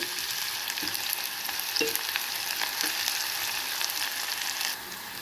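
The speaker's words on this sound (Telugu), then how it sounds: "బాండ్లీ పెట్టిన ఆయిల్ వేసిన ఇప్పుడు ఆనియన్స్ వేస్తున్నానండి" Onions hitting hot oil in a pan on a stove for a potato and broad bean curry, crackling in a steady bright sizzle with occasional stirring scrapes, close and continuous, no talking.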